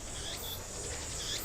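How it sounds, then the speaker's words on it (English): Cicadas buzz in a steady, high-pitched drone that pulses in waves, running continuously and fairly loud from start to finish. "Jeez, those cicadas."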